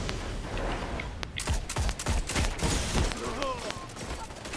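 Gunfire in a multiplayer shooter video game, a rapid string of sharp shots in quick succession over a few seconds amid game noise, with some voice activity in the background.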